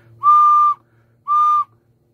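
A recorder blown softly through the nose produces two separate sustained, steady pure notes, each about half a second long with a short gap between them. The notes are moderately loud and heard close, with no talking.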